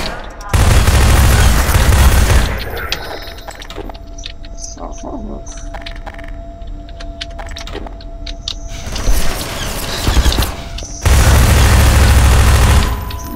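Grenade blasts and gunfire in the video game Half-Life 2: a loud, booming burst of explosion and shooting opens, a quieter stretch of scattered game noises follows, then another heavy blast roars near the end.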